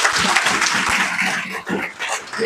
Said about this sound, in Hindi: बेटा जोरदार ताली हो जाएगी।